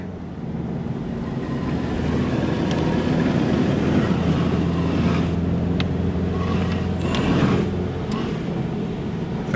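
A car pushing through deep flood water, with a steady low engine drone and broad rushing, sloshing water noise that swells and holds throughout, loud and close from inside the cabin.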